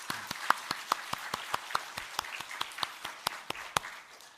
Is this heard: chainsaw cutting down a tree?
no